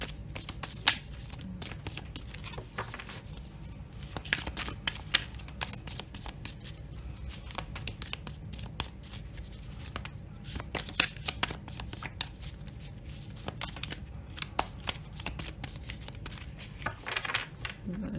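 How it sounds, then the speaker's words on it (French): Tarot cards being shuffled and drawn, a continuous crisp riffling and flicking with frequent sharp snaps, close and steady throughout, over a faint low background hum. "Je tirerai plus les cartes là, parce qu'il paraît que ça fait un bruit d'enfer"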